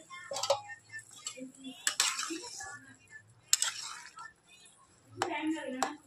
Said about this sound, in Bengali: ঢাকনাটা চাপা দিয়ে দেবো।